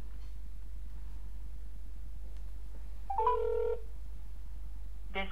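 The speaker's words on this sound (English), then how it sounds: "Let's call that phone number." A phone call is placed, with a soft tone at about three seconds and the start of another at the very end over a steady low electrical hum, otherwise quiet.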